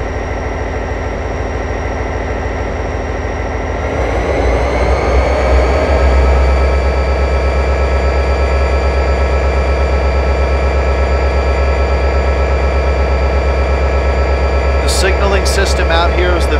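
A BNSF freight train led by Burlington Northern locomotives rumbles past close by in a loud, continuous drone with steady low engine roar, and a few sharp metallic squeals near the end.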